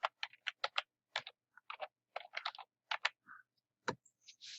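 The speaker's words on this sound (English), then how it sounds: "Just type in your email address." Close, crisp clicks of an email address being typed on a computer keyboard, irregular bursts of keystrokes separated by short silent pauses, no voices.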